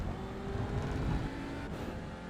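A TCR touring race car engine drones around Spa in iRacing, a steady close whine that swells and eases as it accelerates through the lap, with no voices.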